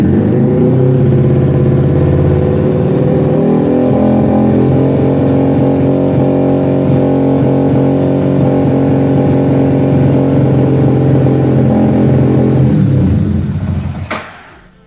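A Kuda Juken 5 motorcycle engine held at high revs, a loud, steady close-up drone that keeps up for about fourteen seconds before dropping away abruptly at the end, with no talking.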